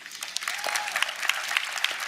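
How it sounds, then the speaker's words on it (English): Audience at the RootsTech forum applauding FamilySearch colleagues, a short burst of moderately loud crowd clapping with distinct sharp claps standing out from the steady patter. "Can we just pause for a minute and give a round of applause for my colleagues here?"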